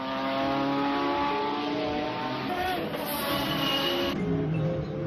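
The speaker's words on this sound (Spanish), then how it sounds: "En un coche, la aceleración que se consigue depende de la fuerza que es capaz de transmitir el motor a las ruedas" A car engine accelerating, a steady rising mechanical drone with shifting tones, fairly loud and sustained throughout, with no voices over it.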